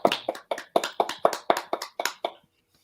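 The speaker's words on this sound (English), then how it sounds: "So applause there for the folks over at Skeletron" Applause from a small handful of people, about ten sharp, evenly spaced claps close by, stopping abruptly into silence.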